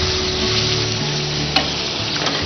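Cashews sizzle and fry steadily in a hot pan of egg drop fried rice with salt, pepper and green chillies, a continuous bright crackle with a faint stir or clink partway through, no talking.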